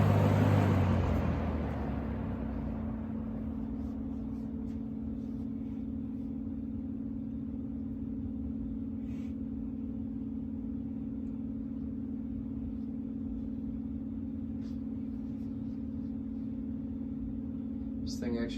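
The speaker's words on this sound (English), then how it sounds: "This thing actually takes quite a while to spin down." A vintage Superlectric 2067S box fan is switched off and slowly spins down. A rushing airflow fades over the first couple of seconds, leaving a steady low motor hum that lingers with a few faint ticks.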